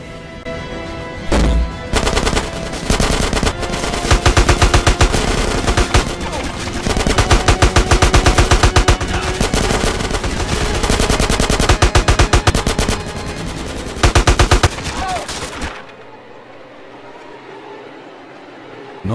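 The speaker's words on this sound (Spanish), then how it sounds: "Creo que escuché unos disparos." Rapid bursts of automatic gunfire and single gunshots from GTA San Andreas ring out loud and nearly continuous for about fifteen seconds, then cut off to a quiet background.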